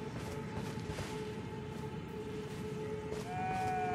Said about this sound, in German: Hört euch das auch so, wenn ihr Schafe hört